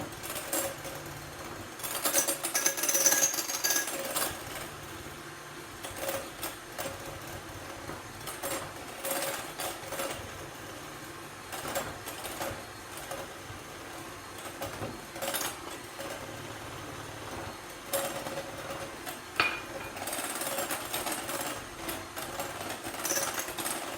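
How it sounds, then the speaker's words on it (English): An electric hand mixer beats a banana pudding mixture in a bowl, its steady mechanical whir running throughout with uneven bursts and rattles as the beaters move, loud and close with no talking. "as with my mixer running, I'm going to beat these just a little bit"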